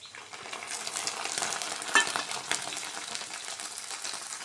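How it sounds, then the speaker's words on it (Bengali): Brains frying with onions in a pan, a steady close sizzle with light scraping and stirring throughout, one sharper utensil clink partway through. "পরে যে ঘিলুটা বেরিয়েছে, এই যে এটা এই যে পেঁয়াজের সাথে ভেজে নেব।"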